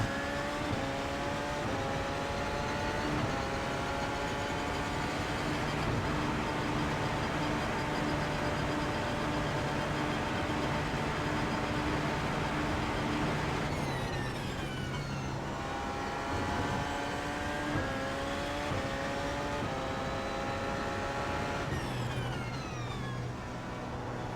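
Porsche 919 race car engine in the iRacing game on a final lap at Road America, a continuous high whine with rising pitch sweeps and abrupt drops at gear changes, steady and loud throughout with no talking.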